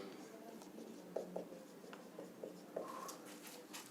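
Chalk or marker taps and strokes on a classroom board during a maths lesson, a handful of short faint ticks spread over a few seconds.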